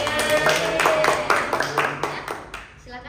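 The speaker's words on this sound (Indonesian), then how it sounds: "Oke, tepuk tangan" A group of students claps together in a school group-counseling session, a brief burst of dense hand claps that fills the room and then fades, with a voice briefly audible.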